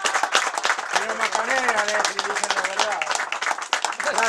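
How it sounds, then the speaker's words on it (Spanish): A small group clapping together at the close of a radio show, brisk claps running throughout beneath prominent overlapping talk and cheerful voices. "Cerramos con un aplauso, muchachos."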